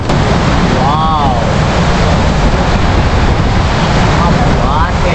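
Water sprays at Srisailam dam in a loud, continuous rushing roar mixed with wind buffeting the microphone, with a brief voice-like sound over it.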